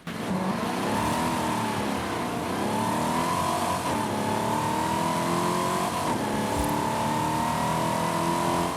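A Cadillac CTS-V Wagon's 6.2 litre supercharged V8 in Forza Horizon 5 revs and pulls steadily, engine pitch climbing and dropping through gear changes, a continuous loud close drone with no talking.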